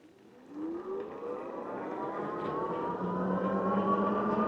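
A Riding Times Z8 Pro e-bike carrying a 220-pound rider accelerates on throttle alone along a road between speed bumps, its motor whine rising steadily in pitch and growing louder over a broad rumble of wind and tire noise.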